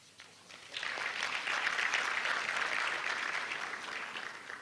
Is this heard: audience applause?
yes